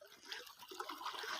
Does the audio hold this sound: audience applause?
no